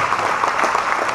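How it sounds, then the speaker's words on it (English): A crowd applauds at the main stage of the 2016 London Drum Show, a brief, dense burst of clapping that stays loud and steady throughout. "Round of applause for Andy Ganganini."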